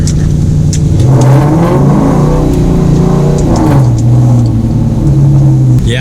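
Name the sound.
car engine revving while drifting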